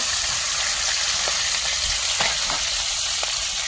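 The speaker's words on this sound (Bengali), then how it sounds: "এখন মাছগুলো ভেজে নেওয়া হচ্ছে।" Fish frying in a pan in a village kitchen, heard as a loud, dense, continuous sizzle that stays close and even, with a few faint stirring knocks and no talk.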